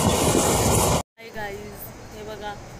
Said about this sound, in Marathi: बघू शकता ते बघा निघाली ट्रेन.